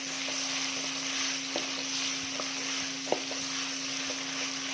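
Ginger and garlic paste frying in a pan, a steady soft sizzle with faint stirring clicks and a low hum underneath, quiet and close with no talking.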